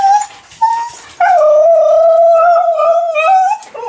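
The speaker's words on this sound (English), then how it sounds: "It's my big dog." A husky at a rescue, rehab and retirement ranch in Australia whimpers in short rising cries, then breaks into a long, loud, wavering howl that holds for a couple of seconds before trailing off, close and with no other sound.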